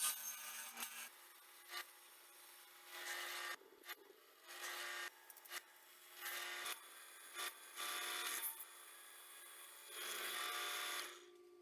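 Hand tool rasping and cutting into an aluminum machete blade for a prop replica, a series of close, bright scraping strokes in short and longer bursts with pauses between, no talking.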